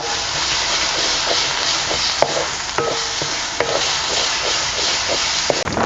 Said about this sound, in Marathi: एक मिनिट हे परतून घेऊया